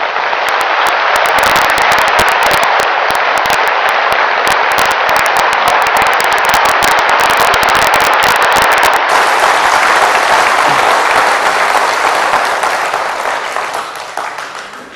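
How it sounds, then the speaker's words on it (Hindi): Loud, dense applause from an audience at a Brahma Kumaris Transport Wing talk, a steady roar of clapping that runs unbroken for the whole stretch and only begins to thin out near the end. "इतनी जोर से तालियां बजाएंगे कि हमारी तालियों की गड़गड़ाहट उस ईश्वर तक टच हो जाए"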